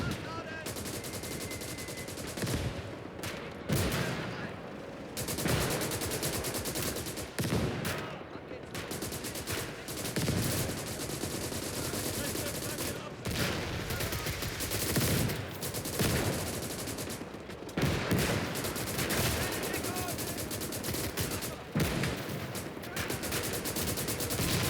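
Mortar and gunfire in the Call to Arms: Gates of Hell battlefield, a dense, continuous barrage of booming impacts and crackling small-arms fire with machine-gun bursts, loud and unbroken throughout, with occasional voices mixed in.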